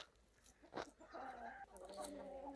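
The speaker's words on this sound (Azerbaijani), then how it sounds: "Özümüzün 2 xoruz, 4 toyuqdur." Backyard chickens and a rooster cluck nearby in a short burst of throaty, drawn-out calls, faint and close, with some faint speech behind them.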